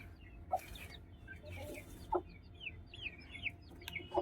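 Aseel hens kept on a rooftop cluck in short, scattered bursts against a steady outdoor background, some calls closer and sharper, others softer and farther off.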